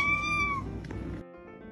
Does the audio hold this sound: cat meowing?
yes